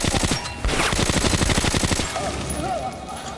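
Automatic gunfire in the shooter game Metro Last Light: a loud, rapid burst of evenly spaced shots for about a second and a half, then fading into game ambience and faint electronic tones.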